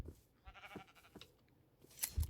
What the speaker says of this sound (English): I'm gonna go find a bunch of sheep and shear them